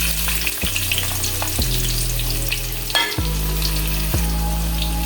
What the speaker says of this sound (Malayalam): വെളിച്ചെണ്ണ ചൂടായിട്ടുണ്ട്. ഇതിലേക്ക് നമുക്ക് തേങ്ങ അരിഞ്ഞത് ചേർത്ത് കൊടുക്കാം.